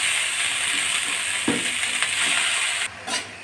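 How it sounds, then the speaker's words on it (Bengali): Cabbage hisses and steams in a hot dry wok, a steady broad sizzle broken by a couple of scraping stirs and brief knocks, the hiss dropping off near the end. "এই যে শুধু খালি কড়াইতে একটুখানি ভাপিয়ে নিচ্ছি"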